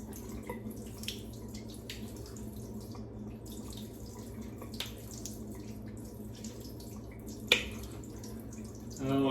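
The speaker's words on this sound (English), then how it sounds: "let me rinse off here" Tap water runs into a sink while someone rinses off after a shave with Strike Gold shaving soap, a soft steady flow with faint splashes and drips, close by.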